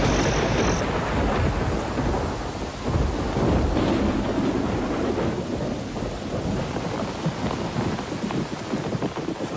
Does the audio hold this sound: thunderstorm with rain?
yes